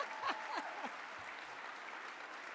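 Faint, distant audience applause at a summer teachers' institute in Dallas, a soft continuous patter of clapping with a few brief vocal sounds near the start.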